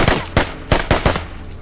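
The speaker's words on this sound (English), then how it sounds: "Someone's shooting." Rapid video game gunfire crackles in a burst of about six loud, close shots, with clipped echoes between them.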